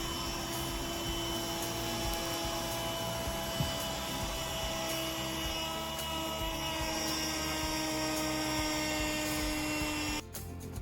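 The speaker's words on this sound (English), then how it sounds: "So I have to switch the suction pipe of my vacuum cleaner." Vacuum cleaner fitted with a suction pipe cleaning couch cushions, a loud steady whining drone running close and unbroken, changing pitch as it cuts off near the end.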